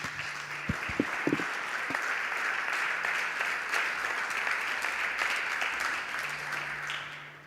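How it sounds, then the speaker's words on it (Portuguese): A church congregation breaks into sustained applause that fills the room steadily, with a few sharp claps standing out near the start, before it fades slightly at the end. "eu queria que você aplaudisse o Senhor do sábado"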